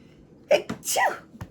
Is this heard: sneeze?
yes